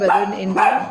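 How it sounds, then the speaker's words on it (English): A pet dog barks and yelps twice in quick succession, close and loud, overlapping a person speaking. "Sorry, that was my dog."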